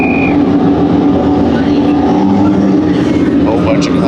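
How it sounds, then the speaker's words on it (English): Porsche GT3 Cup race cars pitting at a circuit, a loud continuous engine roar filling the scene as several cars run together, with a faint voice underneath. "Whole bunch of cars pitting in now."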